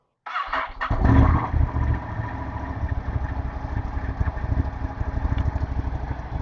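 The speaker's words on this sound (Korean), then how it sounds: "자, 시동 걸게요." A Ducati Scrambler 1100 Sport Pro motorcycle fires up with a loud, close crank and catch, then settles into a throbbing, uneven idle that continues to the end.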